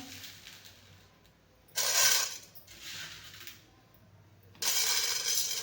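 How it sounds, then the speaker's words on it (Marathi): Sorghum grains tipped into a hot kadhai in three separate bursts, each a loud close rattling patter of tiny grains striking metal, with quiet gaps between the pours. "इकडं आपली कढई गरम झालेली आहे तर आता ही थोडी थोडी ज्वारी अशी टाकून घेणार आहे"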